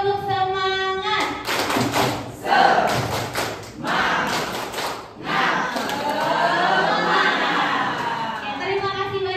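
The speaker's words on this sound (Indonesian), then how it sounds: "Kalau kita tepuk semangat dulu ya." An Indonesian audience performs a rhythmic clapping chant called tepuk semangat, with loud patterned claps and shouted group responses mixed with voices, rising and falling in bursts.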